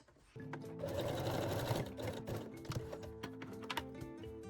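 Sewing machine running a straight stitch along the edges of a lingerie bralette, starting abruptly into a close, busy mechanical chatter with rapid needle clicks that continue steadily.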